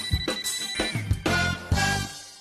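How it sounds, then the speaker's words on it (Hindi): A telephone bell rings in three repeated bursts, loud and close, with no voices over it. "फोन की घंटी बजते ही"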